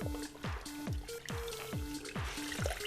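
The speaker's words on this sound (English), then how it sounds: "we're going to wring out the water. Not all the way, we want it wet but not dripping" Water from a wet towel drips and trickles steadily into a basin in a series of regular, close drops and small pours, soft and alone.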